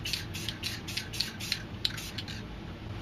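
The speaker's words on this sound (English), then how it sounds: "I'm going to spray some black down here to add some shading to the moon" A can of black spray paint hisses in a run of short, fairly quiet bursts as shading is added to a black and white space painting, each burst with a faint click.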